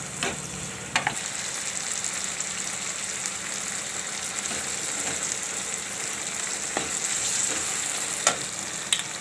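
Poha with turmeric and salt cooks in a pan, giving a steady loud sizzle and frying hiss throughout, with occasional sharp clinks of a spoon against the pan.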